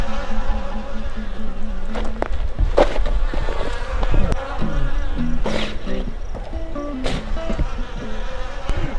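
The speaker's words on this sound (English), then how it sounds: "Trying to kill a wasp this big with a pole this big." Large wasp buzzing near a homestead: a steady droning hum with shifting pitch as it flies close, over continuous outdoor background noise, with a few sharp knocks from a pole swung at it.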